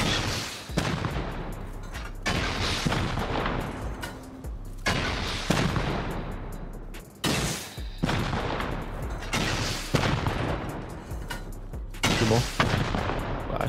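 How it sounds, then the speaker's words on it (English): Rocket launcher blasts against honeycomb base walls in the survival game Rust, a string of six or seven heavy booming impacts about two seconds apart, each loud and close with a rumbling tail, and little talk. "you just shoot a rocket"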